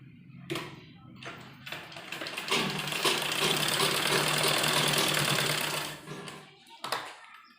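A sewing machine runs a continuous stitching burst on a kurti flower design, preceded and followed by a few short taps and starts, close and fairly loud, with no speech over it.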